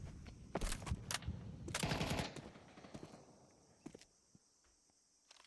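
Bursts of automatic gunfire in Counter-Strike 2, a few sharp close volleys early on, then fading to scattered faint shots and footsteps.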